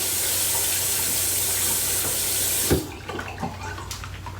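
A bathroom tap runs in a steady, hissing stream while someone washes their face, then shuts off abruptly, leaving a few close splashes and hand-rubbing sounds.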